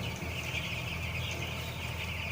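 Chickens cluck steadily in a poultry shed on a farm, where the birds are raised alongside nine-day-old chicks, a continuous busy flock murmur at moderate loudness with no talk.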